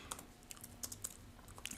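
Fingers type a prompt on a computer keyboard, with a quick uneven run of close, light key clicks over a quiet background.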